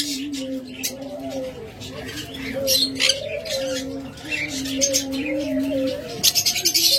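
Blue lovebirds at a busy bird market give bright chirps and short calls from close by, scattered through steady crowd murmur and a voice talking over them.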